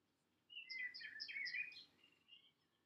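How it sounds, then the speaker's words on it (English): Birds chirp and tweet outdoors on a sunny day: a cluster of bright, overlapping calls bursts in after a short quiet moment, stays lively for over a second, then thins to a few scattered, softer chirps. "the birds are outside chirping, so I couldn't resist having a little bit of bird song here in the background"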